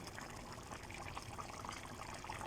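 Pot of Iraqi dolma covered with water and tomato paste cooking on a stove, giving a soft, steady bubbling and trickling simmer close up, faint and continuous, with no talking.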